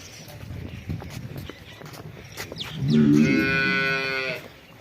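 Cattle at a livestock sale: hooves and handling noises with someone talking, then a loud drawn-out moo close by for over a second.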